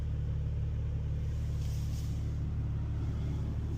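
A BMW speeds past on a track, a steady distant low rumble of engine and road noise that swells slightly midway, with no voices over it.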